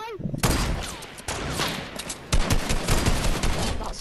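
Rapid bursts of gunfire in the Fortnite video game, dense and loud, with overlapping shots and a sharp volley near the middle and more firing toward the end; a gasp sounds at the start.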